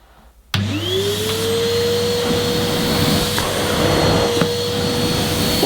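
Numatic Hetty Next 200 vacuum cleaner running on full power with the handle suction control closed, a loud steady whirring drone with a rising whine that starts abruptly and holds constant, close by.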